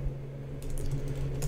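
Rapid keystrokes on a computer keyboard, close and clear, tapping in an uneven burst that grows busier partway through, with a low steady hum underneath.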